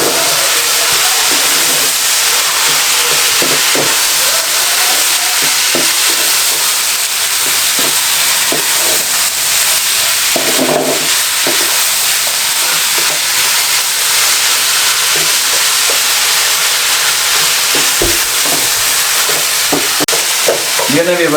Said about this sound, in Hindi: इसको मैं 2 मिनट ऐसे और फ्राई कर लूँ चिकन को भी साथ